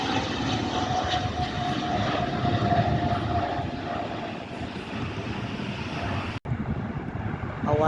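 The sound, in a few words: Hawker Beechcraft 400 XP jet aircraft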